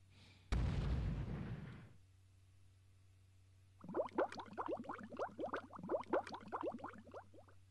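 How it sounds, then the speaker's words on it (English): A single loud booming explosion from a bomb in the Bomberman Generation video game, followed by a pause and then a rapid crackling burst of smaller popping blasts, all in-game effects with no talk. "And I can just drop bombs."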